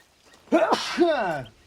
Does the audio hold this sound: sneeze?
yes